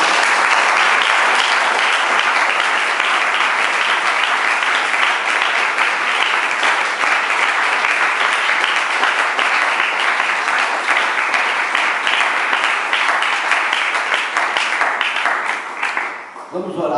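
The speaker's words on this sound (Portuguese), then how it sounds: "Dá uma salva de palmas para Jesus." A church congregation bursts into loud, sustained applause during a family worship service, dense clapping from many hands holding steady before tapering off at the very end.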